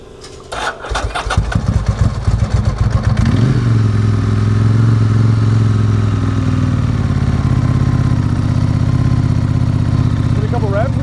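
A motorcycle engine, apparently one of several classic bikes including a Honda CB750, Yamaha TZ250 and Ducati 888, cranks on the starter with choke applied, catches after a few seconds and settles into a loud, steady cold idle.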